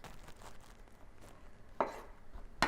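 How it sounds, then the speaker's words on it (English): Japanese shiitake mushrooms being halved with a knife on a cutting board, faint quiet taps with two sharper knife chops toward the end. "These we just take off the stem and divide them to two."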